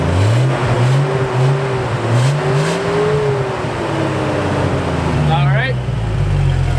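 A 1999 Jeep Cherokee XJ with the 4.0 engine and stock exhaust revs up repeatedly close by, rising and falling in pitch, then settles back toward idle; faint voices talk beneath it.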